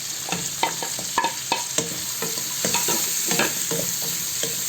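Green chilies, chopped onion and garlic hit a hot pan of oil left from frying fish, sizzling loudly while a spatula scrapes and stirs in a series of sharp, irregular clinks over the steady fry.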